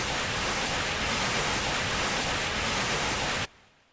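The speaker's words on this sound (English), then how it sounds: "what you just heard was the pressure release" Tank pressure release in the video game Brick Rigs, a loud steady hiss of rushing air held for several seconds before cutting off abruptly, leaving a faint tail.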